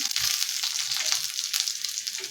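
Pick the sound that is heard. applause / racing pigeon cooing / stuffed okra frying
stuffed okra frying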